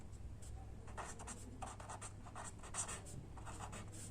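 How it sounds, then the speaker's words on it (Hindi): Marker or chalk scratches on a board in short strokes while writing and drawing an arrow, close and fairly quiet, with no one speaking. "यहाँ पर एरो बना के लिखेंगे"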